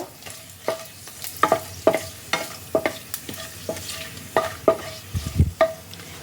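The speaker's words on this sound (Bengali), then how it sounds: "এই সব কিছুকে তেলের মধ্যে খানিক্ষণ একটু নাড়াচাড়া করে নেব" Whole garam masala spices with dried red chillies stirred in hot oil, a series of distinct spoon scrapes and clinks against the pan over a soft sizzle, repeated roughly every half second.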